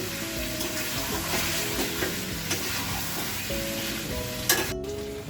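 Chicken sautés in oil for a slow Bengali kosha, a loud, continuous sizzle and spatter with repeated scraping of the spoon across the pan.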